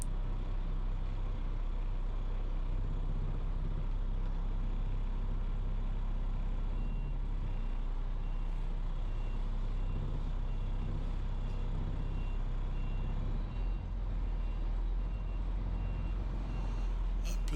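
A large truck idles and rumbles while faint, evenly spaced reversing beeps repeat in the background over a long stretch, as it backs up to dump demolition debris.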